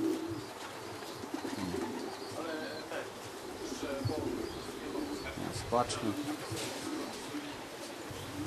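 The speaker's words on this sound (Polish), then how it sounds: "To jest już 11 gołąb." Racing pigeons arrive at a rooftop loft in Szczecin, giving soft intermittent coos and a few chirps at moderate distance, while someone speaks Polish close by over light outdoor background noise.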